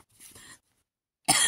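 Two short coughs, the first softer and the second sharper and louder, separated by a moment of silence.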